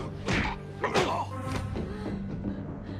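A blow lands in a tense sci-fi fight scene as one man knocks another out: a couple of sharp, close thuds and whacks rise over a busy soundtrack, with no voices talking over them.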